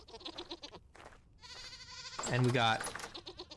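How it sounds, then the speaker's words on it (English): Goats bleat in the survival game Vintage Story, one long, loud, wavering bleat near the end after a few shorter calls, while someone talks quietly under it. "now that we've got all the goats where they need to be"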